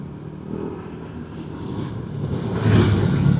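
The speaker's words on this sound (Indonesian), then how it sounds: "Salip dulu, itu di belakang ada motor yang tadi berisik tuh." A noisy motorcycle passes on an intercity road during a touring ride, its engine drone building steadily under constant road and wind rumble and growing louder toward the end.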